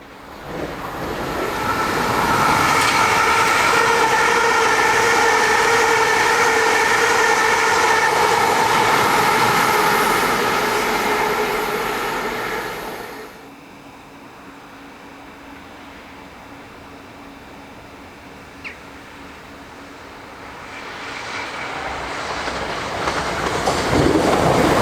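A train speeds through Newington railway station on the Chatham Main Line, a loud, close roar with rhythmic wheel clatter for about thirteen seconds. It drops to a quiet lull, then another approaching rumble rises at the end.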